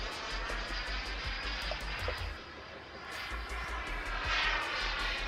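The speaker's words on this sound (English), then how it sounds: "some lovely passes by this glider" Glider flown under full power making low passes at an air show, a steady engine drone that swells and fades as it goes by, heard from a distance and fairly faint.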